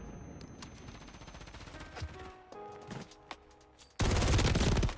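Gunfire in Call of Duty Modern Warfare 3 ranked play, with scattered sharp shots and bursts over game sounds, ending in a loud, dense blast of noise, and no one speaking.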